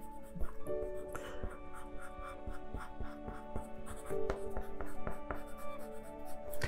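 A colored pen scratches steadily across paper in short, repeated strokes, quiet and close, over soft background music.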